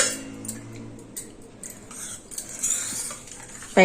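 A spoon stirring thick tamarind pulihora paste in a metal pot, giving close scraping and clinking strokes against the sides in an irregular rhythm, with a sharper clink at the end.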